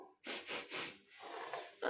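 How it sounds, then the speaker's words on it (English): A cartoon character voices a sneeze set off by pigs: a few rising, breathy intakes build up, then a longer hissing burst of air, all fairly quiet. "Pigs make me sneeze."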